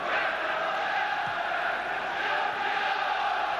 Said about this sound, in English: Certainly the crowd are doing their best to rouse Manchester United to draw that first goal into that Fenerbahçe net.